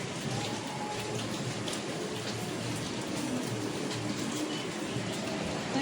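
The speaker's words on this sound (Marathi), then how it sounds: "आणि आज किती पाऊस येत आहे." Heavy, continuous rain pours down steadily, a dense close hiss with no break and no voices.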